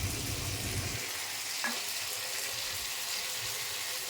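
Cooking oil sizzles steadily in a pan for a rohu fish and potato curry, a continuous close, moderate hiss with a faint clink partway through.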